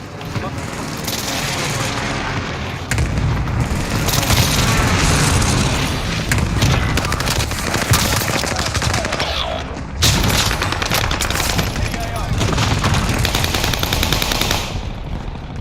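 Airstrike in Call of Duty Warzone, a loud continuous barrage of heavy booms and rapid gunfire rolling on with few breaks, with voices talking underneath the battle.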